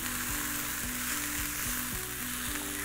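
Chopped onions fry in a pan as they begin turning light brown, a steady close sizzle with a continuous hiss and no talking over it.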